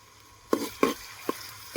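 Tomatoes go into frying onions for a Kathiyawadi sev aloo curry, giving a soft sizzle broken by three sharp spoon-stirring scrapes against the pan.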